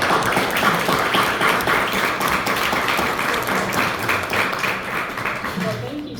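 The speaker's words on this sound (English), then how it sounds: "a big hand of applause for Tony." An audience at a Republican women's club meeting applauding a speaker, continuous brisk clapping at a steady loud level with a few voices mixed in.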